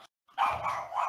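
A pet dog, let outside and chasing after a cat, gives a short, loud, close bark that stretches into a rough, sustained yelp after a brief moment of silence.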